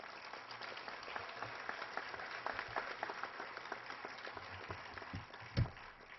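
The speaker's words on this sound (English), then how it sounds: "all of you really deserve a round of applause for doing a great job." Audience at a high school senior awards ceremony applauding, a steady wash of clapping heard faint and distant through a muffled recording, with one louder thump near the end.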